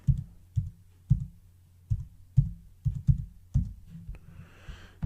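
Keys on a computer keyboard clack in an irregular series of about ten close, distinct taps, typing a search into a website, with a soft rustle at the end and no voices.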